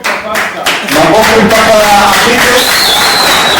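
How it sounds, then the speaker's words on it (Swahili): An audience at a launch event breaks into clapping, with several sharp claps and then a busier wash of crowd sound while people talk over it. "Makofi."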